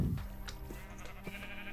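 A Minecraft sheep bleats during a nighttime-to-morning gameplay session. The bleat is short and fairly clear, set over quiet game ambience and followed by softer game noises.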